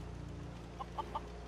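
Chickens give three short clucks in a livestock pen at a Fallout 4 settlement called The Castle, the calls fairly faint over a steady low background hum.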